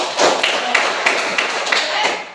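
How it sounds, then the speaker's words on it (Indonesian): Students in a classroom clap together, with rhythmic, fairly loud claps mixed with voices and chatter throughout. "Oke, tepuk tangan dulu semua."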